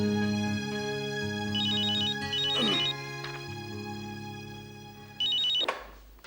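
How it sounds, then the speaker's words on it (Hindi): A telephone rings with a melodic electronic ringtone in bursts, fairly loud and close, in a Hindi TV drama household scene, with short gaps and a brief clatter near the end. "क्या सावित्री का फोन है ना?"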